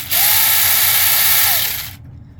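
A small battery-powered Saker mini electric chainsaw spins up with a high, steady whir, runs for about two seconds at constant pitch, then cuts off and winds down into quiet.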